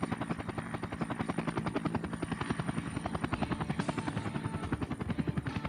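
A Cobra attack helicopter in the video game Air Conflicts: Vietnam drones close by, its rotor beating in a fast steady thump under a constant engine whine throughout.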